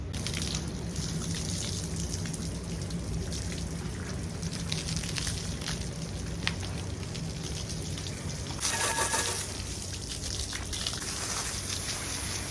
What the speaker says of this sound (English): Let's see if I can rinse this off.